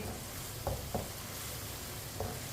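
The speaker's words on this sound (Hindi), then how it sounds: "प्याज और लहसुन को 3-4 मिनट के लिए पका लेते हैं। इसे ऐसे ही चम्मच चलाते हुए पकाना है।" Onion and garlic fry in a pan over medium heat, a steady sizzle with a few soft scrapes of a stirring spoon.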